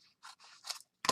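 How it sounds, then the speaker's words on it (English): Scissors cutting and trimming paper for a scrappy junk journal, heard as several short crisp snips in quick succession, close and fairly quiet, with the last snip the sharpest and loudest. "This part needs to be cut."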